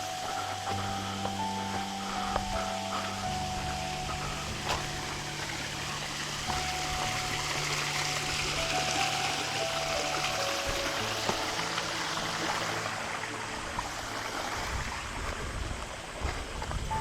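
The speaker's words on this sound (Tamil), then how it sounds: "பார்த்தீங்களா, இதான் பீமன் ஃபால்ஸ்" Beeman Falls in the Jawadhu Hills pours with a steady, broadband wash of rushing water, constant and fairly distant, with faint tonal hums and occasional small knocks mixed in and no talking.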